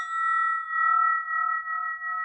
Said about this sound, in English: This bell that I'm holding now we call this a spinning bell.